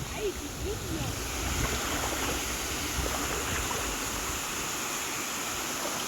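Continuous rushing roar of El Limon waterfall in the Dominican Republic, a dense broadband wash with a hiss of spray, steady and fairly close throughout.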